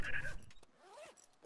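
A backpack zipper opening in the DayZ Epoch Taviana video game: a short, close rasping pull followed by quieter rising sweeps, with no talk over it.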